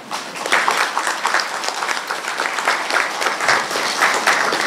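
Audience at a regional health authority public board meeting applauding the chair: a sustained round of dense, continuous clapping from many hands at an even, fairly loud level, with no talking.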